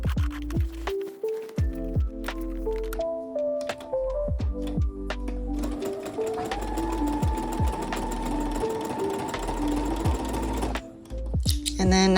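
A sewing machine stitches rings onto a knife pleat Roman shade, starting with slow individual needle thumps that build into a steady rapid whir before stopping, close and prominent.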